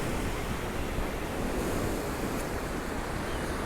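Sea waves surging against Blackpool seafront at high tide, a steady broadband wash of surf with wind rumble across the microphone, continuous and fairly loud with no voices.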